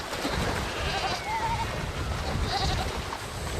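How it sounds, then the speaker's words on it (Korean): Goat bleating in short wavering calls while being dragged across a river, set against a steady wash of flowing water and outdoor noise. "염소가 질질 끌려 강을 건넙니다."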